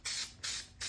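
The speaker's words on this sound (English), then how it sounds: "So I'm going to spray these with lizard skin" A spray can applies Lizard Skin coating to parts of a 1971 Monte Carlo SS454. It gives three short, close, loud hissing bursts with brief gaps between them.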